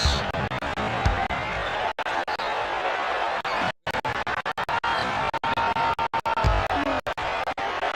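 Basketball arena crowd in the College Hoops 2K6 video game on PlayStation 2, a steady broadband roar of cheering and chatter throughout with a brief dropout midway.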